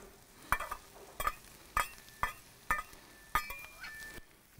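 Onions frying in hot butter on an outdoor Camp Chef griddle give a steady low sizzle, broken by about eight sharp spatula scrapes and clinks in a loose rhythm, close and fairly quiet.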